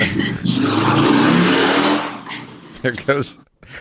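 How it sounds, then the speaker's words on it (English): Motorcycles pass by with a loud roaring engine sweep that rises and fades over a couple of seconds, followed by people talking nearby. "there goes some motorcycles"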